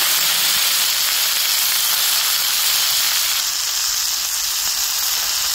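Steady, loud sizzling of vegetables hitting hot garlic-seasoned oil, a continuous bright hiss that holds without pause throughout.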